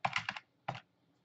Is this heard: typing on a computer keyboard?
yes